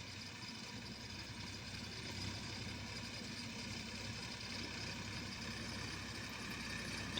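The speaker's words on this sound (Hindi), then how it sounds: "तो ये आ गया ट्रैक्टर भी।" A tractor engine idles steadily nearby, a continuous low rumble and mechanical hum holding an even level throughout with no speech.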